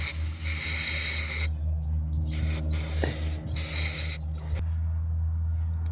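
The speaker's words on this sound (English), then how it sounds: "Now what I'm gonna do is take a little more carburetor spray." Carburetor cleaner sprays from an aerosol can into the carburetor of a Craftsman GT5000 riding mower, a bright hiss for about a second and a half, then short bursts, over a steady low hum.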